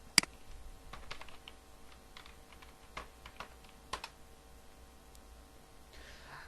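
Keystrokes on a computer keyboard while entering a folder name, a quiet scattered run of light clicks at varying pace with a sharper tap near the start, over a faint steady hum.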